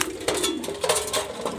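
Pigeons coo softly in a short, close burst of low throaty calls with a few faint chirps mixed in.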